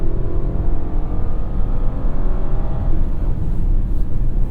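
A 2025 Mitsubishi Outlander's naturally aspirated inline-4, driven through a CVT with paddle shifters, pulls at high revs, giving a steady, loud engine drone and road rumble inside the cabin with no break.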